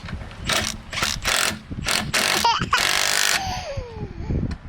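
A ratchet turns a locking lug nut with its key on a Ford Focus ST wheel, making loud, close bursts of rapid clicking in uneven spurts, followed by a short squeak and quieter rattles.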